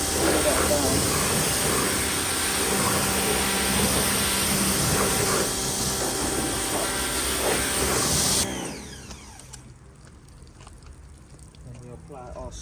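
A car is rinsed with water at a roadside outdoor car wash. A loud, steady spraying hiss runs for about eight seconds, then cuts off abruptly, leaving quieter background noise.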